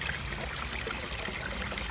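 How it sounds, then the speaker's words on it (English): Water escaping and trickling from a leaking pond pump fitting with a pressurised UV external filter, a faint, steady dribbling wash throughout with no voices. "there is an escape of water from here."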